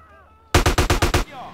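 Rapid burst of about seven loud, evenly spaced gunshots from a weapon in the video game GTA San Andreas, close and punchy, with quiet game ambience before and after.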